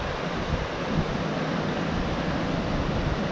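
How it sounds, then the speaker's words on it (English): A mountain stream along a backcountry trail rushes steadily, a broad, continuous roar of water with no voices over it. "I hear a lot of water coming up here."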